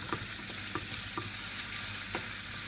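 Chicken mhancha filling being stirred in a pan with sauces, a steady frying sizzle with a few soft utensil scrapes and taps against the pan, close and continuous, with no voices.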